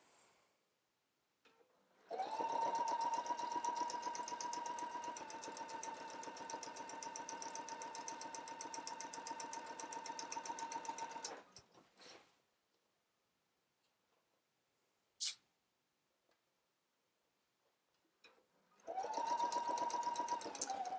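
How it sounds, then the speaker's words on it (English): A sewing machine stitches a curved pocket seam on a dress skirt in one long, steady whirring run lasting about ten seconds, then falls quiet, with a sharp click before a second burst of stitching starts. "going to go to the machine and sew this at 5/8 of an inch"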